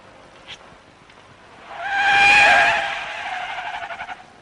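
A Citroën car brakes hard during a safety test, its tires letting out a loud, swelling squeal that builds, peaks and then fades with a wavering tone over a faint background hiss.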